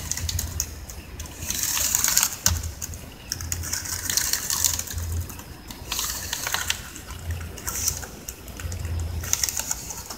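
Keys pressed one after another on a Samsung NP275E4V laptop keyboard after keyboard replacement, a steady run of close, light clicks in bursts over a low background hum.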